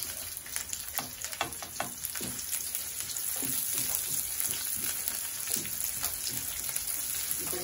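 Onions frying in a pan for a pechay and tofu dish, a steady close crackle and sizzle with scattered pops and some clinks, with no one talking.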